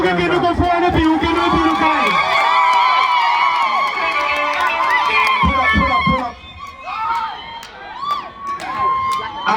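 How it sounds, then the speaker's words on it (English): Outdoor campaign rally crowd cheering and shouting, loud and sustained, with voices mixed throughout and a brief dip before the noise swells again. "Please clap for yourself and clap for you."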